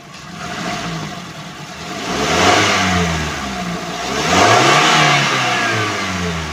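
A 2021 Suzuki New Carry minivan engine revs up twice, the pitch climbing and falling back each time over a steady running hum, fairly close and loud.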